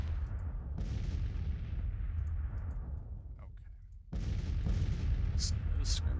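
Civil War artillery fire in the game Grand Tactician: a sustained low rumble with heavy booms, easing off briefly before a fresh loud burst of cannon fire returns, steady and dense throughout.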